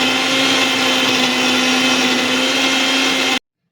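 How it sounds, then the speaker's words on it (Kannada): A kitchen mixer grinder blends dry fruits in its jar, a loud steady motor whine with a constant hum that runs evenly and then cuts off abruptly into silence, with no voices. "ಎಲ್ಲ ಡ್ರೈ ಫ್ರೂಟ್ಸ್ನು ಮಿಕ್ಸಿ ಮಾಡ್ಕೋಬೇಕು."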